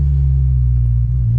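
Honda S2000 engine idling while warming up on an evening before a mountain drive, a steady low hum held near and unchanging throughout.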